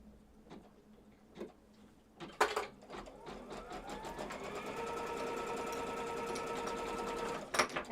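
Sewing machine stitching quilt block pieces, starting after a few ticks and clicks of handling, then a steady close whirring run of stitches for several seconds before a sharp click at the end.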